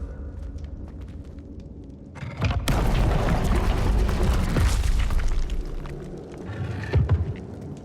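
The Confringo blasting spell in the video game Hogwarts Legacy sets off a loud booming explosion that rumbles for several seconds, then gives way to quieter debris noises and one more thump.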